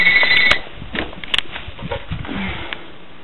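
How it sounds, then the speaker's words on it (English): A telephone beeps loudly for about half a second at the start, then stops while softer clicks and scattered background sounds continue. "Ah, stupid phone."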